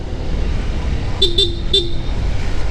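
A Honda ADV 160 motorcycle's stock horn, car-style, honks three short times, a brief double toot then a single one, over a steady low engine rumble.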